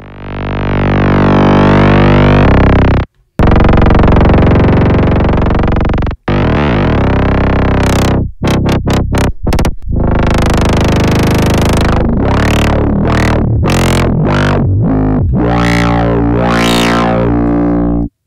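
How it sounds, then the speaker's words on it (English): Ableton Live 12.2 Auto Filter pushed hard into its clip distortion mode makes loud, gritty, saturated synth tones, holding a sustained buzzing drone and then breaking into choppy, sweeping bursts with short gaps. "So similar to glue compressor, you can now drive the crap out of this."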